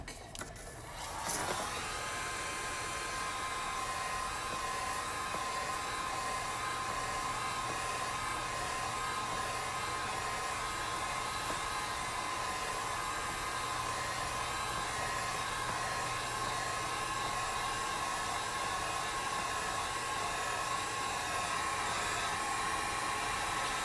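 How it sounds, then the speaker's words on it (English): A heat gun blows steadily on an acrylic flow tumbler, a loud continuous hot-air roar with a faint motor whine that starts abruptly and holds for the whole stretch. "let me hit this with the heat gun real quick."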